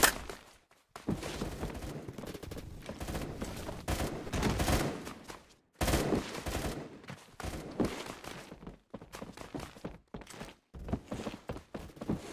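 Suppressed automatic gunfire in the Roblox shooter Phantom Forces comes in repeated bursts of muffled rapid shots, broken by short silent gaps, fairly loud and close, with no talking.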